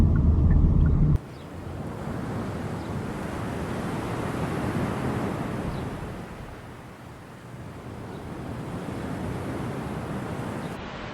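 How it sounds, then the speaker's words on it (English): Strong wind roars over an ocean shore in Maui, a loud constant rush of buffeting microphone noise and surf that swells and eases, preceded by a brief louder low rumble at the start. "It's so windy, so it might be hard to hear"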